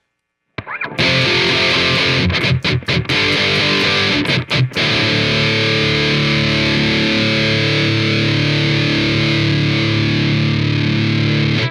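Heavily distorted electric guitar through an AmpliTube 5 amp simulator, a few choppy muted strums and stabs, then a big chord left ringing and sustaining loudly.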